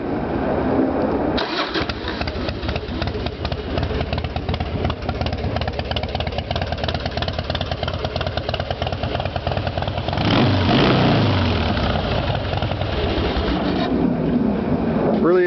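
A 2005 Harley-Davidson Heritage Softail with Bologna exhaust fires up and settles into a loud, close idle, then blips into a couple of strong revs before dropping back to its rumbling idle.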